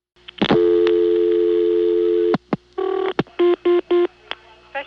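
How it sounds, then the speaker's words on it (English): Dial tone on a Siemens motor-switch telephone exchange hotline in Ocala, Florida, a loud steady hum for about two seconds, followed by a series of clear rhythmic touch-tone bursts and brief clicks, with no talk. "apparently you do get a dial tone"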